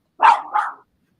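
A pet dog named Zoe lets out a loud, close bark at a delivery arriving at the door, a single two-part woof with a harsh growly edge, sounding alone against otherwise quiet surroundings.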